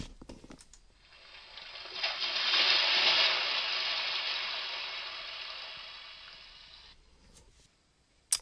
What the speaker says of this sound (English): we're going to pick an ocean wave sound